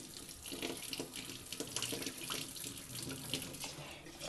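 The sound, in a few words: tap water running over rice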